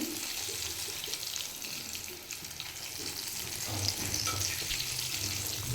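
Chicken popcorn pieces, KFC-style with a maida coating, fry in hot oil with a steady, close sizzle while they are turned in the pan, giving occasional scraping stirs and no talking.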